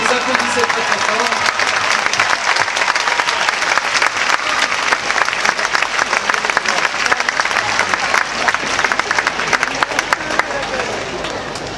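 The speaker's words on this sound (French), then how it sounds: "j'aimerais que vous applaudissiez tous les bénévoles qui sont ce soir et qui vous accueillent. Vous applaudissez très très fort." A concert crowd at the Nuit des Hits 2014 gives loud, sustained applause for the volunteers, a dense wash of clapping and cheering that runs steadily for the whole stretch.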